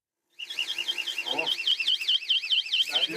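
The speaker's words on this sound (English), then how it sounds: "That's the alarm." A screamer intruder alarm in a house goes off abruptly, a loud, piercing electronic siren warbling rapidly up and down without pause, with faint voices underneath.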